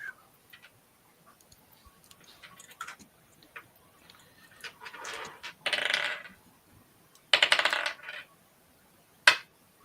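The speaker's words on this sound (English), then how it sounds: "So I need some dice." Dice clatter across a tabletop during a Fabula Ultima roleplaying session, a few short rattling bursts of varied loudness, the last one sharp and close, with quiet table noise between them.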